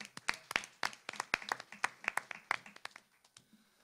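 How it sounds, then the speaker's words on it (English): A small town hall audience at a historic preservation meeting gives a short round of applause, scattered distinct claps from a few people, fairly quiet and thinning out toward the end. "let's give one more round of applause to Council President Brenda Jones and her office"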